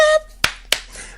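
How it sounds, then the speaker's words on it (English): Two sharp, separate hand claps ring out close by, about a quarter second apart, after a brief tonal sound at an evening hosted talk event. "she keeps clapping."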